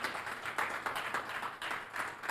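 A church congregation claps in a quick, rhythmic pattern of repeated bursts, moderately distant and fairly quiet, with no voices over it.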